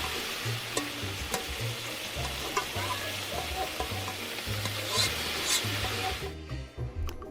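Food being stirred in a pot in the video game Immortal Life, a steady sizzling fry with a repeating low scraping rhythm of stirring, fairly close and continuous, fading out at the end.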